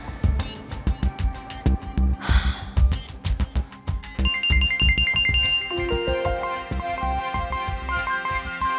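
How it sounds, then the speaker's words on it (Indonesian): A mobile phone ringtone for an incoming call plays a melodic electronic tune, starting with rhythmic beats and then moving into a clear repeating chime melody, loud and close with no talking. "ada telepon dari Coach Sofyan"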